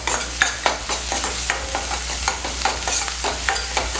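Ginger paste and chopped scallions stir-fried briefly with salt in a wok: steady scraping and tossing with repeated sharp spatula strokes over a continuous low sizzle, close and alone.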